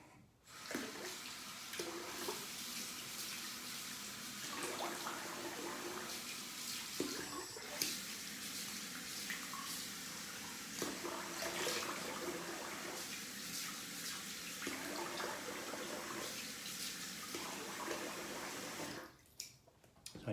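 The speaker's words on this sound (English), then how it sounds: "Rinse the face off." Water runs and splashes at a sink as a face is rinsed after shaving, a continuous close hiss and patter with a few short dips in flow before it stops near the end.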